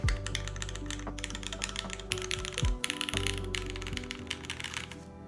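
Typing on a Merisi 500c mechanical keyboard fitted with GMK Deepwell keycaps, arrow keys included: a dense run of crisp, close clacks in quick bursts with short pauses between, no voices.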